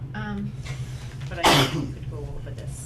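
A single loud, sharp sneeze bursts out partway through a board of health meeting, cutting across a man's ongoing speech in a room with a steady low hum.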